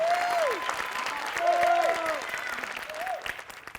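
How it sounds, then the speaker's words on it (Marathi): A studio audience at a Marathi comedy show applauds for Shyam, broad steady clapping filling the clip while a host's voice rises over it in bursts. "श्यामसाठी एकदा जोरदार टाळ्या"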